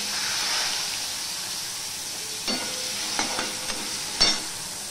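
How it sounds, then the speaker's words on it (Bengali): Cut potatoes dropped into hot oil tempered with panch phoron and dried red chilli, a steady close sizzle and hiss with a few soft clinks and stirring scrapes in the pan. "এবার এখানে অল্প আলু কেটে রেখেছি, আলুটাও দিয়ে দিলাম।"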